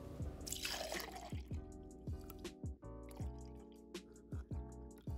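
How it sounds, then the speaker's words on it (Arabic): Milk poured into a blender, a series of close, separate liquid drips and glugs in an irregular rhythm, fairly quiet. "الطبق اللي فوق اول شي حطيت بالخلاط كوب ونص حليب."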